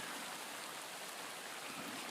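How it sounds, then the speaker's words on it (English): Rain turning to hail outside an off-grid dwelling, small ice pellets striking and bouncing off surfaces as a faint, steady, hissing patter with no one speaking. "the rain has just turned to hail. Little pings of ice bouncing off everything."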